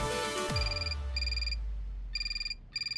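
A telephone rings in a police station setting, sounding in rapid trilling bursts of bright electronic tones with short gaps between them, loud and close, after a low thud at the start, with no talk.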